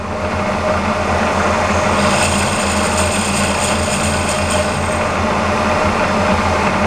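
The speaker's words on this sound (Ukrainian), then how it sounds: "Зараз будемо різати канавку. І нарізаємо канавочку." A lathe cuts a groove into a collet blank, giving a steady whirring machine drone with a high, faintly whining cutting tone over it. The sound is loud and continuous, with no talk.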